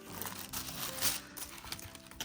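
Steady crinkling and rustling of tissue paper being handled up close, continuous and textured throughout.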